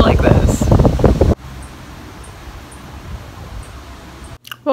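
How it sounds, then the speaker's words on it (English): Strong wind blows outdoors, a steady broad rush buffeting the microphone. A voice speaks near the start, then the wind continues alone at an even level before cutting out abruptly. "I turned around because it's so fucking windy"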